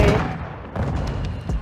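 A sniper rifle fires in a first-person shooter video game, one loud close blast at the start followed by a few lighter gunfire thuds and game noise.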